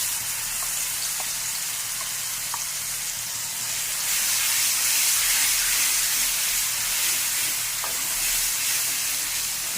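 Ground paste frying in oil in a pan, a steady close sizzle and hiss that swells louder midway, with faint scrapes of stirring; no one talks.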